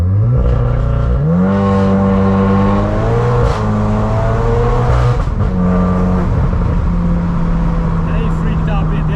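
A Stage 3 VW MK8 Golf R (535 hp) launches uphill, the engine rising loudly through the revs with a gear change and turbo whoosh, then pulling hard at close range inside the cabin.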